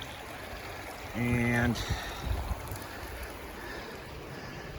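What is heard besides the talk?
river stream flowing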